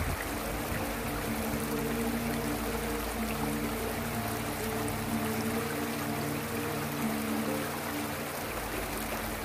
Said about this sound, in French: où coule la rivière des gorges du Loup